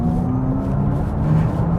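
An Audi e-tron GT quattro electric car accelerating hard from a standstill, its motor giving a loud steady whine and low rumble that holds close and constant for a couple of seconds, with no talking.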